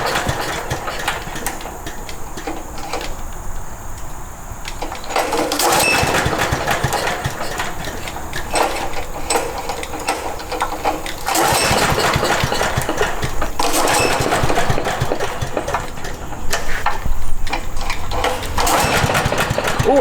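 A lawn mower engine fitted into a VW Beetle runs steadily and fairly loud, its drone rising and falling in surges over twenty seconds with a brief lull near the five-second mark.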